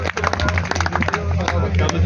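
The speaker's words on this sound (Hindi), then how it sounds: "जोरदार तालियां" An audience at a public gathering in Raniyawas, Jaipur, claps in a dense, steady patter close by, with a loud voice speaking over it throughout.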